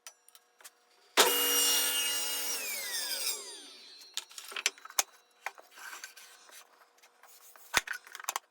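A power drill bores pin holes into a hinged-lid finger-joint wooden box. One short, loud whirring burst falls in pitch as the bit spins down, followed by scattered knocks and taps of handling the wood.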